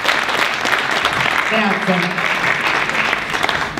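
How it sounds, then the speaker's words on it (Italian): Applause from an audience at an Italian wine tasting event in the Marche region, a steady dense clatter of clapping filling the whole moment while someone speaks briefly over it. "un applauso"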